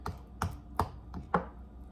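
A mallet taps an oyster shell at the hinge: five sharp, close knocks spaced roughly evenly over two seconds, moderately loud and without talk.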